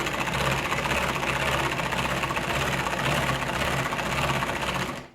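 Tupperware Speedy Chef 2 mixer running at speed 2: a steady, buzzing mechanical whir with a fast rattling pulse, continuous and close, stopping abruptly at the end, with no talk.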